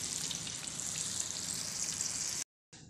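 Eggplant sizzles and crackles steadily in hot frying oil, a dense continuous hiss close up, cutting out abruptly for a moment before resuming.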